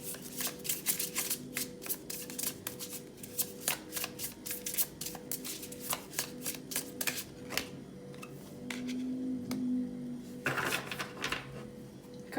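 Tarot cards are shuffled in a steady run of crisp, close riffling snaps, loud and dense through most of the stretch before thinning out near the end, with no talking over them.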